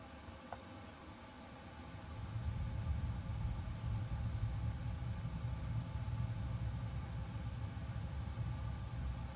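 Engines on an airliner in Microsoft Flight Simulator 2024 start up, both at once: near silence gives way after about two seconds to a steady low rumble and broad hiss that hold for the rest of the clip.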